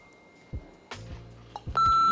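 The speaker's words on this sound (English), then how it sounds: "Was that my phone?" A phone gives a short electronic notification beep near the end, a clear steady tone set against light kitchen handling knocks and clatter earlier on.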